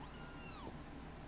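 A single cat meows once, a high drawn-out cry with a falling pitch, heard close over a steady low background hum.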